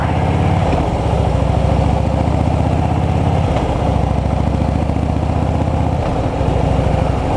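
Motorcycle engine revs loudly and steadily, rising and dipping in pitch with a couple of brief breaks as the rider downshifts and rev-matches while working the clutch, heard close up with no talk.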